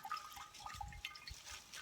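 Water trickles and drips out of the corner of a soaked double-layer cloth bag outdoors, faint, soft irregular drops and small splashes with quiet pauses between them.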